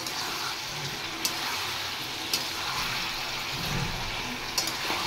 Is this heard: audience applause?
no